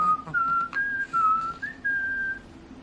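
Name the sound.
person whistling to a baby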